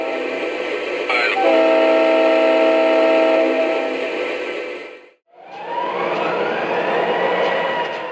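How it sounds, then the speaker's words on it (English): An MTH Premier C40-8 O scale model locomotive sounds its multi-chime horn in one long close blast, then the model's engine rumble carries on after a brief silence. "It also has my favorite horn of the whole fleet."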